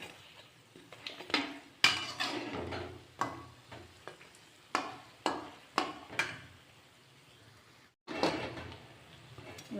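Mysore bondas frying in a pan as they are turned to cook both sides; a soft sizzle runs beneath repeated sharp clinks and scrapes of a utensil against the pan, with a brief pause near the end.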